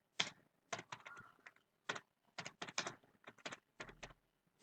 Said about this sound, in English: So let's start typing Reebok